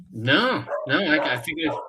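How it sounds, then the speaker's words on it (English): A pet dog barks and yips in short bursts close by, mixed in with people talking over it. "that's my dog"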